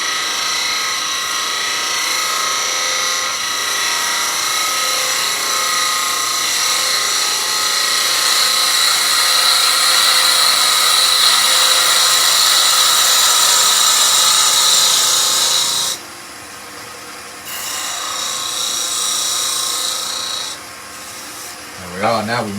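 A wood lathe spins continuously while a gouge makes a push cut with the bevel rubbing, giving a loud steady scraping hiss that drops out briefly near the end before resuming.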